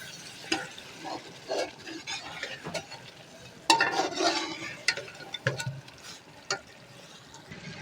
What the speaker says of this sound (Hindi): इसको भी अच्छी तरह से भून लेते हैं टमाटरों के साथ